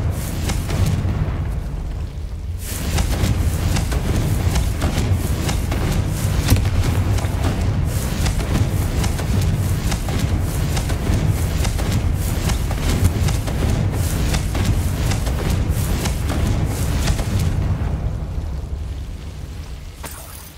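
Spell explosions from Bombarda and Confringo going off in the Hogwarts Legacy video game. They form a dense, continuous rumble of booms and bursts that stays loud for most of the stretch and fades at both ends.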